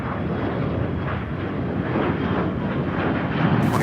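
An airplane landing at Charlotte Douglas International Airport: a steady, fairly distant broadband jet roar holds at an even level throughout, swelling slightly near the end, with no voices.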